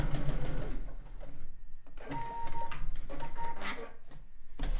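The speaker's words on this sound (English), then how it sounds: "I don't want to sew over my pin." A sewing machine stitches a hourglass star quilt block, running in steady mechanical bursts with short pauses between stretches, close and fairly loud with no talking.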